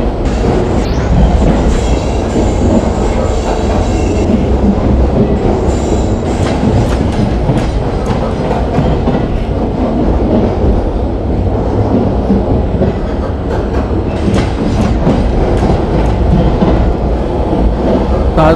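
An Indian Rajdhani express train in the Indian Train Simulator game rolls over a track change, loud and steady, with continuous rumbling and rhythmic clickety-clack of wheels over points and faint wheel squeal.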